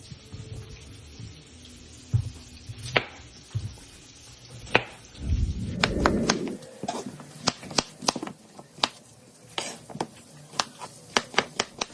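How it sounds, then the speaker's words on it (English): A knife chops through potatoes on a cutting board before boiling, sharp taps coming in a quickening series after some scattered knocks and a brief rustle. "we're going to go ahead and break these potatoes down and get them in a pot"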